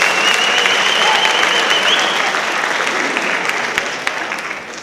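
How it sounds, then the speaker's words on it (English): Graduating high school seniors at Cherry Creek applaud at their awards night, a loud, sustained wash of many hands filling a large room, slowly easing off with a few scattered claps near the end. "Give yourselves a round of applause."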